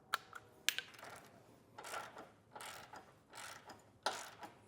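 A socket ratchet snugs down the flange nuts on a Curt Class V trailer hitch fitted to a 2021 Chevrolet. Irregular bursts of quiet clicking ratcheting and a few sharp metal taps come close by, with no talk.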